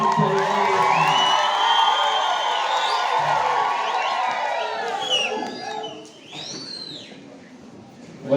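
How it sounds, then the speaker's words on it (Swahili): Loud crowd at a church thanksgiving Mass, with sustained applause and high trilling ululations rising over it; the noise is steady for several seconds, then fades and thins toward the end. "Makofi na vigelegele kwa Mungu."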